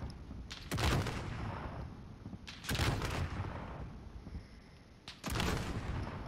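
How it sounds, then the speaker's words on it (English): Three heavy bursts of explosive-round gunfire from the video game Warzone, each a loud broadband crack with a rumbling tail, spaced about two seconds apart over low background noise, with no voices. "Was he firing explosive rounds?"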